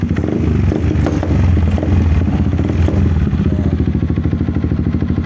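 Yamaha Xmax scooter engine running loud and close, a dense rumbling idle with rhythmic pulsing and a slight rise in revs, alone without talk.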